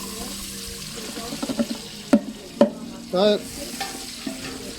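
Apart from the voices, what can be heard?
onion frying in hot oil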